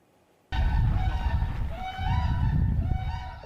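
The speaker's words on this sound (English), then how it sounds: "There's a sound echoing in the wetlands of Wisconsin that was almost lost forever. Whooping cranes." Whooping cranes call in the Wisconsin wetlands, a loud, close chorus of harsh, trumpeting honks that overlap and continue without a break.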